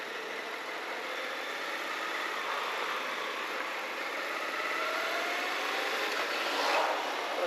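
A Suzuki V-Strom 1050 DE motorcycle engine lugs at low speed, a steady, rough mid-pitched drone with wind noise and no voices, holding nearly constant and swelling slightly near the end.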